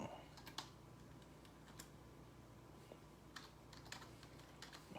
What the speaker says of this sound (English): So I'm typing one hand,